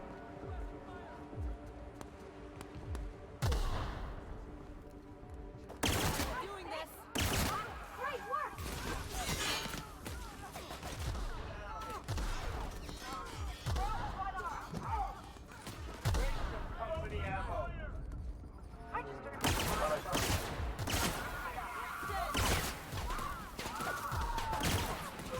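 Laser pistol gunfire in the video game Outer Worlds crackles in repeated sharp bursts among other combat noise, with someone talking over much of it.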